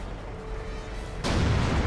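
A single heavy tank cannon shot in World of Tanks booms out abruptly near the end, a loud close blast that follows a stretch of low rumbling.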